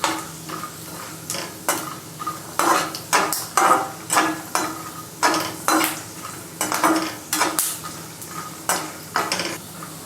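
Coconut is stirred in a frying pan, where peanuts were just fried for a makhana chiwda snack, giving rhythmic scraping strokes against the pan over a light continuous sizzle, close and fairly loud.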